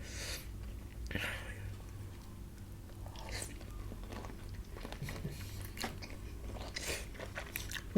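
Someone bites and chews a giant tiger prawn soaked in fermented fish sauce with chilies, making close, wet crunching and mastication sounds that repeat unevenly with small snorts and breaths.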